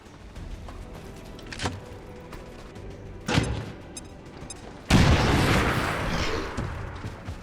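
Soldiers fire on a mutant in XCOM 2: War of the Chosen, with two sharp gunshot bursts followed by a loud, sustained barrage of fire and booming impacts.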